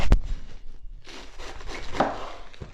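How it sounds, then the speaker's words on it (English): A knife chops iceberg lettuce into strips on a board, a few sharp close cuts followed by softer crunchy slicing and rustling. "I'm just going to chop this up just into little strips."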